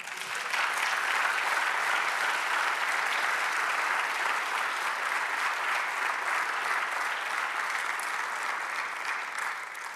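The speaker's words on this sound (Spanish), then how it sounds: "Dale un aplauso al Señor." A church congregation applauds during a sermon, a broad, even wash of clapping from many hands that holds steady for ten seconds at a moderate distance, with no speech over it.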